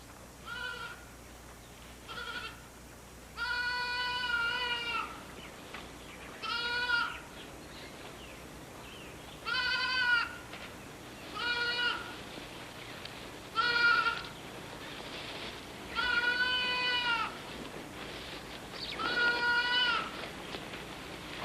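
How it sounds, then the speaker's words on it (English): Goats bleating repeatedly near a flock in an Asiatic lion forest habitat, a series of loud, wavering calls spaced every few seconds over a steady low background hum. "the odd goat does wander off from the flock now and then"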